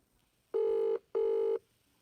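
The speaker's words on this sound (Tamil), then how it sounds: "இருடா நான் உனக்கு கால் பண்ணி பார்க்குறேன்." A mobile phone ringback tone on an outgoing call: two identical electronic buzzing rings with a short gap between them, clean and alone, no voices.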